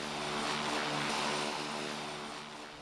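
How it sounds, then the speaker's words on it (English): A small propeller plane flies in Honduras, its steady droning engine hum with layered harmonic tones swelling slightly then easing, heard close and continuous with no voices. "we took an even smaller plane to Puerto Lempira"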